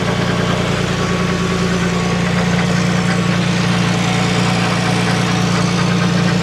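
A BMW E30 M3 fitted with an S54 engine idles smoothly and loudly up close, a steady, even hum with a low mechanical drone and no speech.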